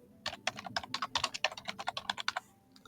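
Rapid clatter of computer keyboard typing, close and fairly loud, with about twenty irregular keystrokes in a quick burst that stops short near the end, with no talking.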